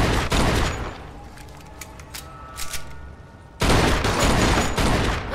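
Rapid bursts of gunfire in the Mafia II crime video game ring out during a burning shootout, with sharp repeated shots at the start, a quieter stretch with scattered reports, then a loud dense volley near the end.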